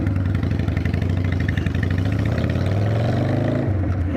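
A motorcycle, restored after sitting with rusty gel in its gas tank, runs while being ridden, its engine a loud, steady pulsing drone that rises in pitch before easing off near the end.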